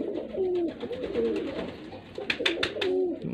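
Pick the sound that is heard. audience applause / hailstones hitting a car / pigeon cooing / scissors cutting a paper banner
pigeon cooing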